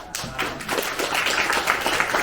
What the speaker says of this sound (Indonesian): Kasih tepuk tangan kepada